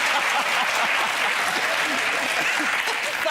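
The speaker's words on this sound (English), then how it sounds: "This audience will applaud anything." A television comedy panel show's studio audience fills the air with dense, sustained applause, loud and even throughout with no pauses.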